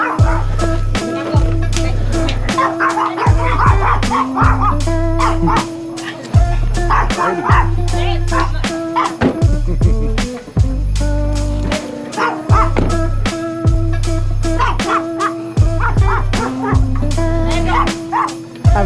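Puppies bark and yip repeatedly in quick, high bursts, some whimpering, over steady rhythmic music playing throughout.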